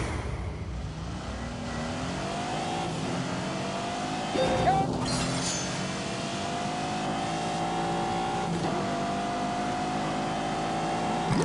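Engine noise from a car in The Grand Tour racing video game, steady revving with harmonic pitch sweeps as the car slows and accelerates through corners, continuous and fairly loud with a brief burst near the middle.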